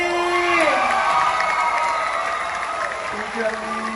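An audience applauds and cheers after a special singing performance on a televised talent-show stage, a loud dense wash of clapping with whoops that slowly eases, while voices shout and talk over it.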